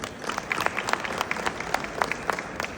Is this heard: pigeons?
no